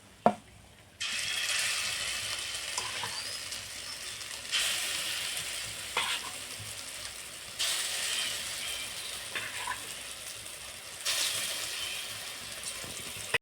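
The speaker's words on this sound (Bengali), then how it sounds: "সব বড়াগুলো ভাজা হয়ে গেলে আমি নুন আর হলুদ দিয়ে আলু পটলগুলো ভেজে নেব।" Potatoes and pointed gourd fry with salt and turmeric in a pan, giving off a hissing sizzle that swells in repeated waves, each surge louder before settling back down.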